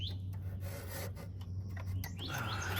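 Fingers rub thick dirt off the casing of a Tosot portable air conditioner, giving a faint, close scratchy rasp in short strokes over a steady low mechanical hum.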